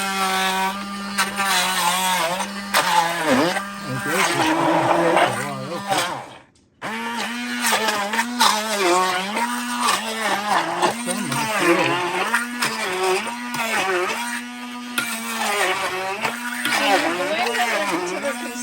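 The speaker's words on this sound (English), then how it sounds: "we're going to use the emulsion blender and blend them up" An immersion blender whirs through six cups of cored tomatoes for restaurant-style salsa, a loud continuous motor drone with pitch swells, cutting out briefly midway before starting up again, while a person talks over it.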